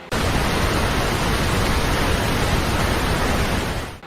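Waterfall, a loud, steady broadband roar of rushing water that holds evenly for about four seconds with no voices.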